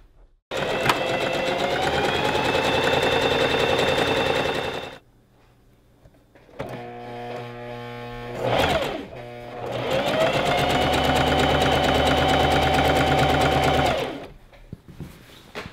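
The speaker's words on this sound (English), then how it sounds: "I'm just going to sew it down with a zigzag stitch" A sewing machine runs a zigzag stitch with heavy-duty thread on a gathered maxi dress, loud and close in two long continuous runs separated by a pause with a brief slower stretch of stitching.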